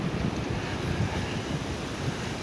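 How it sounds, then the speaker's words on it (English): Ocean surf washes onto a beach in a dense, steady roar of breaking water mixed with wind buffeting the microphone, fairly loud and with no voices. "The surf's a little bit more active than it was the other day when we were down here."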